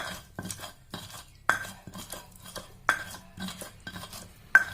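Red chilies are ground in a stone cobek mortar: a series of sharp scraping knocks, roughly every one to one and a half seconds, each followed by a short gritty rub, close by.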